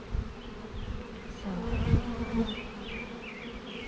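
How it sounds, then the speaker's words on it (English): Honeybees buzz densely over an older hive frame covered in bees, a continuous close drone that swells and fades as insects pass near, with a brief word spoken at the start. "There's a lot of bees on this one."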